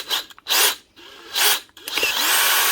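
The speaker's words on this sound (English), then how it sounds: "Drilling forward, no problem. Going to reverse." A DeWalt cordless drill with a faulty forward/reverse switch whirs in three short bursts, revving up and winding down between each, then runs steadily at the end; loud and close with no voices.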